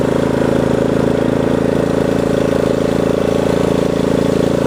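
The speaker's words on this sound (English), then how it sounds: "That's full speed right there. I should say engine full speed." A Craftsman R110 riding lawn mower engine runs at full throttle in second gear, a loud, steady, close-up drone that holds constant throughout without pauses.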